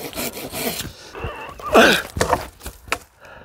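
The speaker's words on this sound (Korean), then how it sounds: "원줄기를 좀 자르겠습니다" Pruning saw cutting through the main stem of a small tree: a few short rasping strokes of wood being sawn, close and moderately loud, with scraping and handling noises between them.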